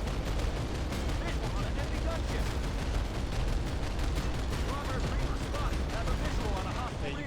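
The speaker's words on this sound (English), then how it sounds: "Open fire, open fire. All guns open." Dense, continuous gunfire rattles through a firefight in the video game Tactical Ops, rapid overlapping shots and bursts packed tightly together at moderate level without letup.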